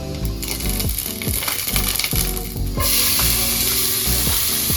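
Onions fry in hot oil for Goan pork sorpatel with a close, steady sizzle. Repeated spoon scrapes and stirring knocks come through, and the frying grows louder and brighter partway through.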